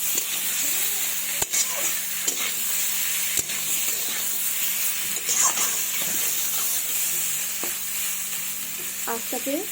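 Papaya seasoned with salt and turmeric fries lightly in a pan for a fish curry, giving a steady close sizzle and hiss with occasional spoon scrapes and taps from stirring.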